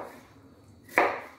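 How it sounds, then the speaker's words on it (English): A knife makes a single crisp chop on a cutting board, slicing chocho for Jamaican fish soup (fish tea). The close, sharp strike follows a quiet kitchen background. "So we're going to start chopping some stuff."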